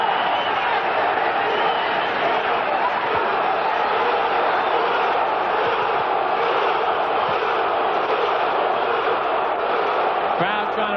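A large boxing arena crowd roars continuously during a bout's fourth round, a dense wall of cheering and shouting that stays loud and steady throughout, with a brief thump near the end.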